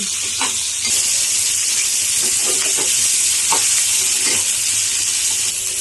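Cucumber pieces frying in a pan on medium flame, a continuous bright sizzle with a few soft scrapes and stirring knocks, close and steady, nobody speaking.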